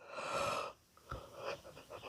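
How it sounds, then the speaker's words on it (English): A person gives a long, breathy yawn that fades out, followed by a few softer breaths and small mouth sounds, close and fairly quiet. "No, don't yawn again."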